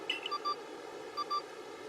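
Two pairs of bright, clean beeps from the Arc Phone in Pokemon Legends Arceus, short tones in quick succession, separated by a gap, over a soft steady hum.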